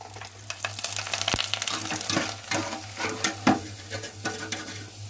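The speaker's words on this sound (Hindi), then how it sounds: "ये देखें ऑयल काफ़ी गर्म है, तो इसलिए जल्दी से जल्दी इसको निकाल लेना चाहिए।" Papad fries in very hot oil, a dense steady sizzle and crackle with occasional stirring clinks and pops, loud and close with no talk.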